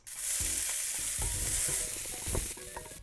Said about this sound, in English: Then we're gonna lightly fry this.